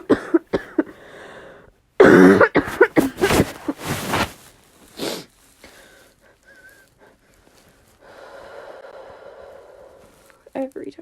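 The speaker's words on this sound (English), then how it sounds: "Every time I cough," A sick person coughs in a burst of harsh, close, repeated hacks with throat clearing and strained breaths, followed by quieter rustling and a few more faint coughs.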